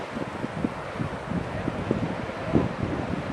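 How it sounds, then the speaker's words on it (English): Wind gusts over Race Point beach on Cape Cod, with rough surf rumbling in the background. The roar is steady and broad, and no one speaks. "Windy day, a lot of rough surf out there."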